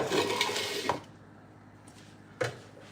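Cold water runs from a kitchen tap for about a second during home cooking, a steady rushing stream that cuts off abruptly, followed by quiet room tone and a brief second splash.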